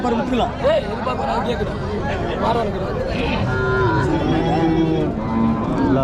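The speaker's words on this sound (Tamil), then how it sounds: "கண்ணுக்குட்டி இங்கே ஒன்று பாருங்க இன்னொரு மாட்டில் வந்து பால் குடிக்கிறது" Cattle at a busy livestock market in Uthangarai, calves and cows among a crowd, with mooing rising over constant chatter and babble of people talking nearby.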